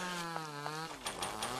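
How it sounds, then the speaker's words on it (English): Chainsaw in the horror video game Mad Father, a loud steady motor whine that shifts pitch partway through, with short bursts of noise over the continuous drone. "He has a chainsaw, I can hear it."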